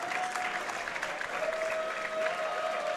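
Steady applause from an audience at a Dragon Ball FighterZ tournament match in Dallas, dense and continuous clapping at moderate level with a faint tonal hum running underneath.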